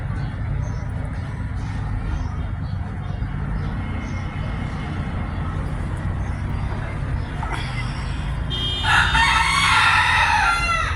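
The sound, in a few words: pet chickens clucking while dust bathing on a balcony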